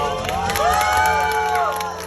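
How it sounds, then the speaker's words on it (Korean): Spectators at an outdoor magic juggling street show in Jochiwon cheer and clap after a trick, a short swell of voices and hands that peaks midway and fades near the end. "요럴 때 박수가 필요합니다."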